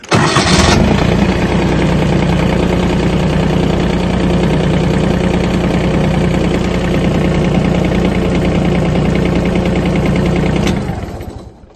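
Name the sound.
compact tractor engine starting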